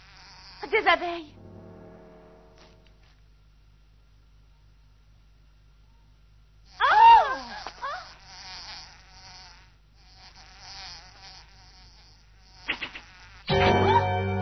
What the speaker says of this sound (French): Des abeilles.